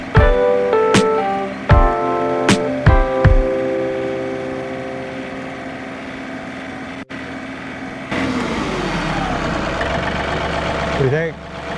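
A tractor engine idles with a steady, droning rumble, broken by a few sharp clanks early on and a rougher, louder patch toward the end.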